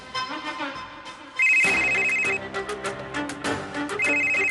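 A phone ringtone chimes in short repeated electronic tones, starting softly and then blaring louder, with a clattering bustle underneath.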